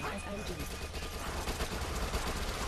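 SMG gunfire in the zombie shooter Dead Nation rattles in a continuous dense stream amid loud game noise, with voices chatting over it.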